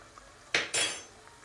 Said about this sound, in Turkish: Yağımız kızdıktan sonra çiğ böreklerimi kızartmaya başlıyorum.